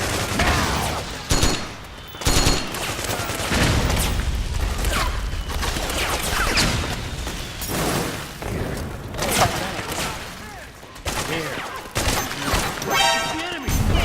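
Sustained gunfire firefight in Metal Gear Solid 4, dense bursts of shots and heavy thuds running loud throughout, with occasional shouted voices mixed into the battle noise.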